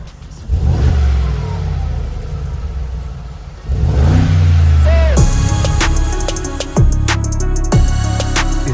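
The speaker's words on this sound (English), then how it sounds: "it's the roar of the car" A Mercedes G 63 AMG engine roars loud and close, rising in sustained revs with a sharper second surge and crackling pops at the end.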